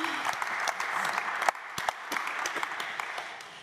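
Audience applause after a panel at an ocean film tour event, a steady wash of many hands clapping throughout with a few sharper individual claps standing out.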